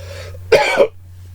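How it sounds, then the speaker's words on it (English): A single short, harsh cough, close to the microphone, with a faint low hum in the background. "Yes, I still have the cough"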